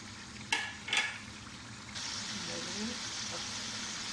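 Cumin seeds and tomatoes go into a pot of frying meat for desi-spiced cooking. A couple of sharp spoon or pan clinks come first, then a loud, steady sizzle swells up and holds.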